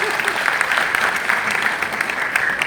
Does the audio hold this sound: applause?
yes